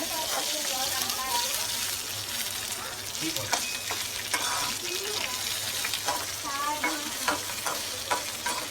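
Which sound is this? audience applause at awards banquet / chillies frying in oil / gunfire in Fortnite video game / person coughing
chillies frying in oil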